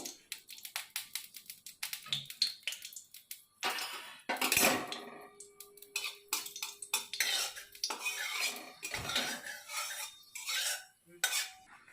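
Dry red chillies fry in a little oil in a hot wok for jute-leaf fry. Quick metallic scrapes and clinks from a spatula come in bursts against the wok, close and fairly soft, with no voices.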